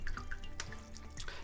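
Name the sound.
rendered beef tallow dripping from squeezed fat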